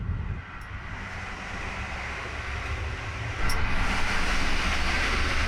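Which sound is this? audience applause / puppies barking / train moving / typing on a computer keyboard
train moving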